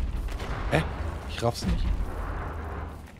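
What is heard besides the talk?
gunfire in the video game Wolfenstein The New Order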